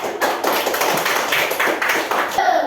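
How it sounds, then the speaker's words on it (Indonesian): A classroom bursts into steady applause for a student group that just finished presenting, many hands clapping densely and continuously at close range for a few seconds with no clear speech. "Tepuk tangan untuk mereka 3"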